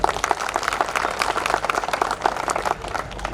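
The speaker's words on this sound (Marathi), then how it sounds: "यानंतर सगळे पुरुष टाळ्या वाजवतील या सगळ्या महिलांसाठी जोरात" Men in the audience at a motivational speech event applaud loudly for the women, a dense, steady burst of many hands clapping together with no talk over it.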